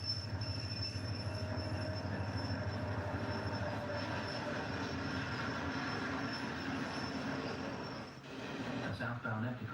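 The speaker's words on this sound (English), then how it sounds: "A southbound empty coal train flashes by" Empty southbound coal train rolls past at speed, a faint, steady rumble of wheels with a thin high squeal that fades near the end.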